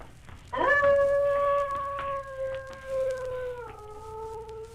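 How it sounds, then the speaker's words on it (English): A long, clear howl in the night, heard alone and fairly close, rising at the start, holding a steady wavering pitch for several seconds, then dipping slightly near the end. "It sounded like a wolf."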